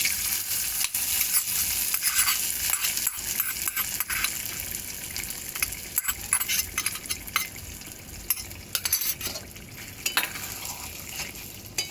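Hot ghee with kasuri methi sizzles and is stirred in a pan, then poured into a paneer rezala curry, giving soft crackling frying with scraping and clinks, close and moderately quiet, without talk.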